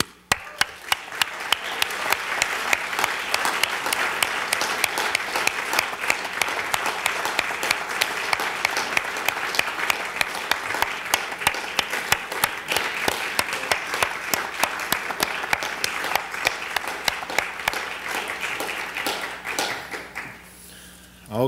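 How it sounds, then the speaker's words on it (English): Sustained audience applause at an awards ceremony, dense and steady clapping filling the hall for about twenty seconds with sharp individual claps standing out before it dies away. "Please join me in it with a round of applause as Li Wei Wei comes up to the stage."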